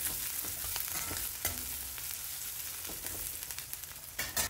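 Crushed garlic and curry leaves frying in a hot oil tempering for a jackfruit curry, a soft continuous sizzle with occasional crackles and stirring scrapes, fairly quiet and without voices.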